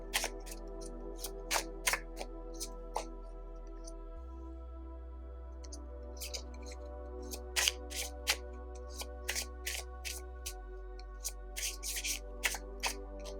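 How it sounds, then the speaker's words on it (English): Tarot cards being shuffled by hand in a quiet room, a string of soft, crisp riffles and slaps arriving in irregular bursts, close and faint, with no talking. "I'm just going to shuffle them"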